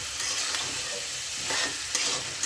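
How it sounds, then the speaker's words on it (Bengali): Boiled potatoes frying in a pan for an egg and potato curry, a dense steady sizzle with light stirring scrapes and small crackling bursts, close and continuous with no talk. "ভালো করে আলুটা ভেজে নেব"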